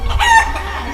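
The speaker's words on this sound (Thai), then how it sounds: "เสียงไก่ที่ไหนอ่ะ" A rooster crows and chickens cluck in one brief, close burst lasting about a second.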